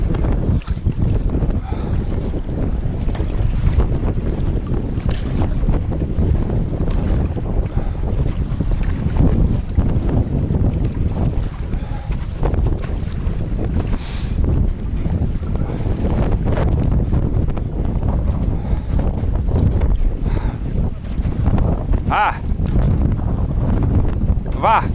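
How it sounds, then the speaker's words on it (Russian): A small boat rides rough waves in strong wind, with heavy, constant wind roar buffeting the microphone and water sloshing throughout, no voices. "По волнам плыву, чтобы не перевернуться."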